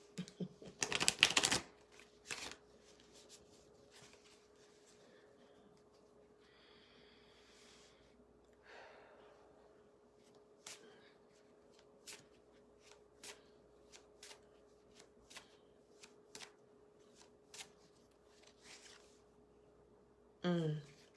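Quick riffle shuffles of a deck of cards, a burst of snappy flutters early on, then scattered soft card taps and a final short shuffle, close and quiet.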